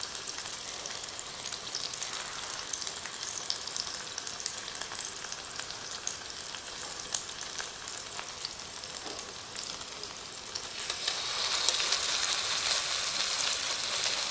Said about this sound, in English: I'm making a patty, putting them on the hot oil